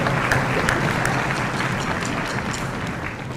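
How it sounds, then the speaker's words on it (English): An audience at an elementary school ensemble concert gives a round of applause, steady clapping that holds through the whole stretch and fades slightly near the end, with no voices over it. "give them a round of applause"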